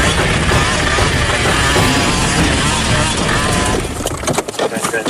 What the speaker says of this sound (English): There's no mistaking the sound of a 2-stroke engine.